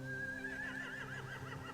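A horse whinnies with a quavering, wavering high call over low background hum, fairly faint and brief, in The Walking Dead: The Final Season video game.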